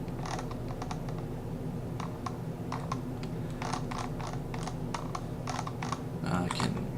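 Typing on a computer keyboard: bursts of quick, close key clicks with short pauses, quiet against a steady low hum, no talking.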